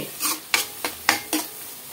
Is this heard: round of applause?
no